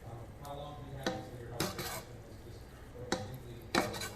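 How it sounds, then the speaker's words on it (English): A spoon scrapes and knocks against a pot while rice is mixed for lubia polo, with several sharp metallic clinks at irregular intervals over a low kitchen background. "You mix the rice."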